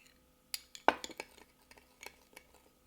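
Salad dressing of sugar, ginger juice, black pepper and salt being mixed in a bowl: a few sharp clinks of a utensil against the dish, the loudest near the start, then light scattered taps, close and alone.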